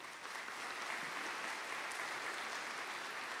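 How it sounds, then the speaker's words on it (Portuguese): A round of applause from the audience at a solemn legislative session honouring the Anglican Church, steady and dense across the hall for a few seconds, fairly distant and without speech. "Uma salva de palmas."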